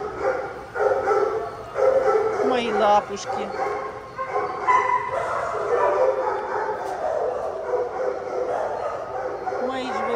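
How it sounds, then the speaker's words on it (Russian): Dogs at an animal shelter give repeated barks, yips and whimpers at close range, with someone speaking over the kennel noise. "Мы пришли в приют для собак."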